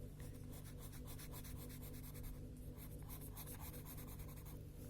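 A pencil shades sections of a fraction drawing on paper, giving a steady, close, continuous scratchy rubbing with quick back-and-forth strokes and no talking.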